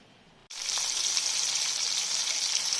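Fish sizzles in hot oil for a curry, the frying starting abruptly after a brief quiet moment and then holding as a steady, bright hiss.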